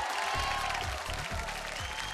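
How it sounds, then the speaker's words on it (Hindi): Studio audience applause on a Hindi TV game show, a continuous bright clapping wash with music pulsing underneath. "जोरदार तालियां।"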